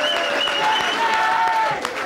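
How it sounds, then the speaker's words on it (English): Studio audience at a 1987 television show applauds steadily and loudly for a guest being brought on, a dense continuous patter of many hands filling the whole span. "Let's bring Kerry on with a nice round of applause"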